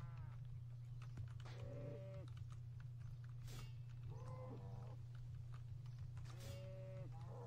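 A cow under attack in the RuneScape video game gives three short bleating moos spaced a couple of seconds apart, mixed with sharp hit clicks over a constant low hum.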